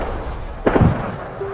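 Gunfire in a French film trailer, a brief cluster of two or three muffled shots over a low ambient rumble.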